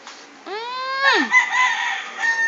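A rooster crows nearby in one loud, rising and falling call, with chicken clucks mixed in around it on a farm, a short clear burst with no talk over it.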